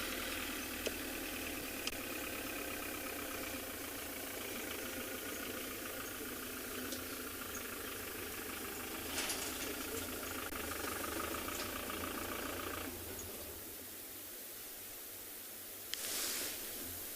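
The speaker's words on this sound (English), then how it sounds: "Probably hear another vehicle coming to join us." A safari vehicle engine on a sunrise game drive at Tswalu, a steady low idling rumble that runs on for a long stretch before easing off, with faint scattered knocks over it.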